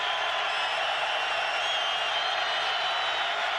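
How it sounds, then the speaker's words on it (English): A sellout stadium crowd in Salt Lake City at a college football game roars loudly and continuously, a dense wash of cheering that holds steady throughout. "Sellout crowd in Salt Lake City getting loud right now on 3rd and 5."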